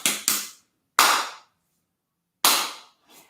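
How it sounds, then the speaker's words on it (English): Two quick sharp hand claps, a pause, one more clap, then another, each crisp and close with short decay and quiet between them. "2 claps on the hand."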